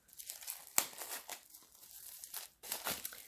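The plastic wrapping of a tarot card deck is torn open by hand without scissors, giving close, quiet crinkling and tearing in several separate bursts, one sharper rip near the start and another burst after a brief pause.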